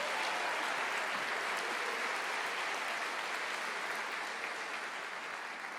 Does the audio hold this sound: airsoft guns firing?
no